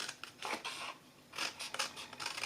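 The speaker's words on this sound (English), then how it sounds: "So you cut off all these score lines as far as the second score line." Scissors snip through the score lines of paper gift wrapping in several quick, crisp cuts, close and fairly quiet, in two short bursts.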